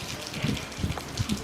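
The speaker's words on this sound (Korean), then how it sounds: "비가 오고 있어." Rain falls steadily outdoors in mountainous Sapa, Vietnam, a soft wide hiss with scattered louder drips and patters, fairly quiet, with faint low sounds that may be voices in the background.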